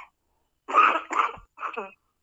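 A person coughs hard after water goes down the wrong way, giving three harsh bursts in quick succession, close and fairly loud, the last one trailing into a choked, throaty rasp.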